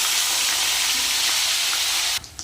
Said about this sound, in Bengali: আমি এই শুটকি মাছগুলো লাল লাল করে ভেজে নেব